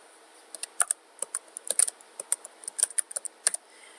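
Computer keyboard keys tapped in quick irregular bursts of crisp clicks, close and clear against a quiet room, no speech.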